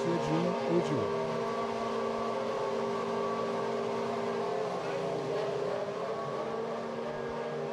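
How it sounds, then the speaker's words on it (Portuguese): Formula 1 car engines running during practice at the 2006 German Grand Prix give off a steady, droning mechanical tone that holds for several seconds, with a brief pitch sweep near the start and commentary voices partly audible over it. "Os motores são acionados e já vão partir os carros para as primeiras voltas"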